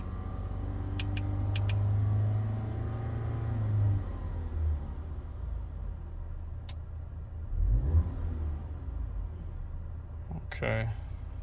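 A 2021.5 VW Atlas 2.0T engine with a pedal tuner revs up, then settles back toward idle with a couple of shorter blips afterward, heard at a moderate level while people talk.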